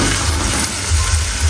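Sausages sizzle and fry in a hot pan with browned food already in it, a dense, continuous crackle close to the mic with no talking.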